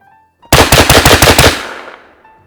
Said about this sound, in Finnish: 6 laukausta niin nopeasti kuin pystytään